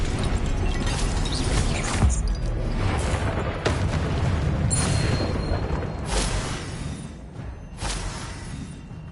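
Fire and blasting spells in Hogwarts Legacy erupt in loud, dense bursts of rumbling booms and crackling, layered over a constant roar with several sharp peaks.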